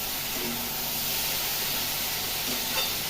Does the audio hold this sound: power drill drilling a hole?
no